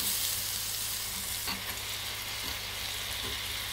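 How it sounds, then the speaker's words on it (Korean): Pork jowl stir-frying in a pan with spicy red cheongyang chili and green onion, a steady close sizzle and hiss with a few faint scrapes of stirring, no talk. "매운 청양 홍고추 넣고 비벼줍니다"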